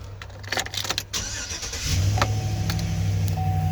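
A 2019 Chevy Silverado 2500HD with a 6.0L V8 cranks and fires, with brief clicks and starter noise before the engine catches and settles into a steady, close idle.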